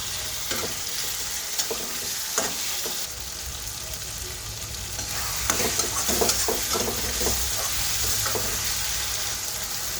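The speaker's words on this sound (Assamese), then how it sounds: "এতিয়া ইয়াত আদা নহৰু পেষ্টখিনি দি দিলোঁ।" Ginger-garlic paste frying in a pan for a rajma dish, a steady soft sizzle with occasional stirring scrapes and clinks of a spoon, close and moderately loud, with no talking.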